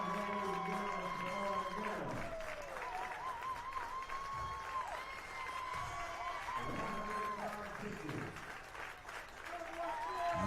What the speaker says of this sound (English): You can hear the appreciation from the many St. Michael fans. Many of the Millard fans also cheering for the right-hander.